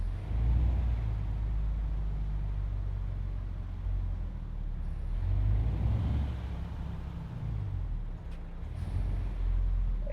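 A Tourismo coach in Euro Truck Simulator 2 easing into Yalova bus terminal, its engine a steady low rumble that swells and settles as it slows and stops.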